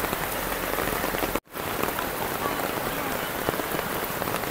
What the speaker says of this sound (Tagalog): binata siminto at nalakas nga po talaga ng ulan.